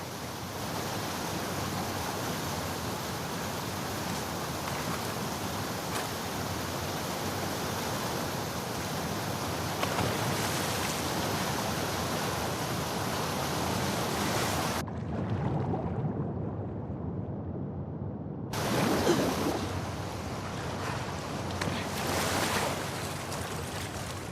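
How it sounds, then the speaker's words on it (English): A fast-flowing torrent of water in an underground waterway in The Last of Us Part II keeps up a dense, steady roar, broken by one short gap of near silence before the rushing returns. "the player was faced with a fast-flowing torrent of water they couldn't cross"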